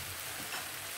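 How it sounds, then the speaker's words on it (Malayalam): Spiced masala sautéing in oil in a pan for an egg curry, giving a steady, soft, even sizzle with no voices over it. "നന്നായിട്ടൊന്ന് വഴന്ന് വരട്ടെ"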